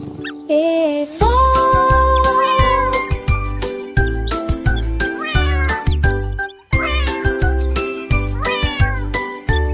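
Cartoon cat meows ring out repeatedly over a bouncy children's song with a thumping rhythmic beat, loud and close, with the meows rising and falling in pitch between the music notes.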